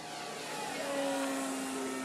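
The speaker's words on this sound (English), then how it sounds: "So this is Sean's airplane?" A small engine of an Extreme Flight Extra 300 88-inch radio-controlled model airplane buzzes steadily, its pitch slowly shifting as it drones on at moderate distance, with no talking.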